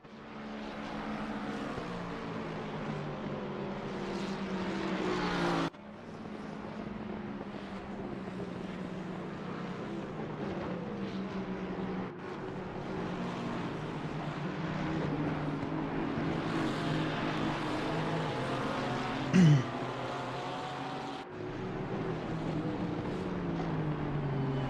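Several race cars, a Ferrari, an AMG and a Porsche, drone steadily around a track during a charity endurance broadcast, their engine tones rising and falling continuously with one brief sharp flare near the end.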